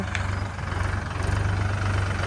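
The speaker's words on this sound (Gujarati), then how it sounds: "અને ટ્રેક્ટર પણ આવી ગયું છે," A tractor engine idles nearby with a steady, low, throbbing rumble that holds constant throughout.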